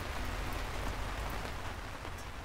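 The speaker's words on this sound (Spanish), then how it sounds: "Comenzó a llover." Steady rain falls at night beside a fairground enclosure, an even, dense hiss of drops on surfaces with no pauses or other sounds.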